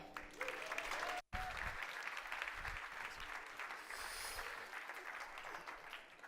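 A conference audience applauds to welcome a speaker onto the stage, continuous crowd clapping with a brief cut near the start, then settling into steady moderate applause that carries to the end.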